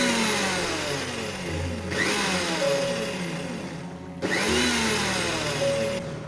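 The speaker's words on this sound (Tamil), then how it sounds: "இதுக்கப்புறமும் 2-3 முறை நம்ம வந்து பல்ஸ் விட்டு எடுத்துக்கலாம்." A kitchen blender whirs in repeated pulses through homemade mayonnaise ingredients, loud and close, the motor droning steadily with two clear restarts, no talk over it.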